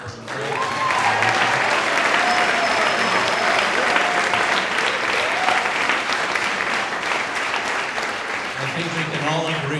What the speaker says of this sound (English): I would just like to ask for a round of applause for all the teams